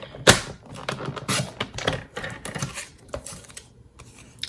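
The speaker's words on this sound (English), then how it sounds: "I'm gonna take the paper trimmer and I'm just gonna cut straight across on that score line" A paper trimmer slicing straight across a score line on cardstock for a Christmas Yeti gift box, a close series of sharp clicks and rasping scrapes as the blade carriage runs along its track, with no talking.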